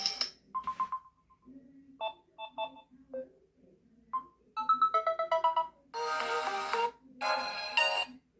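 A Samsung Galaxy phone plays a series of ringtones, beginning with short, separate melodic beeps and chimes and moving into longer, brighter ringing tones, all clear and close against silence.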